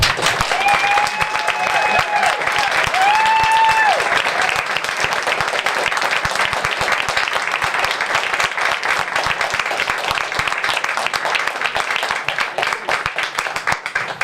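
Sustained round of applause from an audience at a county supervisor's event, dense and steady throughout, with a few cheers or voices rising over the clapping early on.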